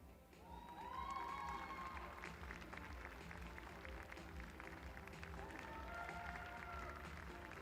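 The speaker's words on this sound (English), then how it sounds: "please give him a big round of applause" An audience applauds at a Guernsey cattle show, a steady, faint wash of clapping from a crowd that runs throughout, with whistle-like tones above it.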